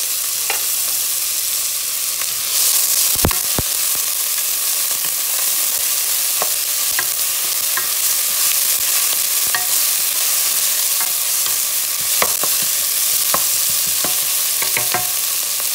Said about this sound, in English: Then you start to stir things around a little bit.